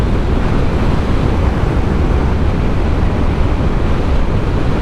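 Strong wind roars over a rider on a Honda CB500X motorcycle on a Scottish coastal road, a loud, constant buffeting rush with no gaps and no voice.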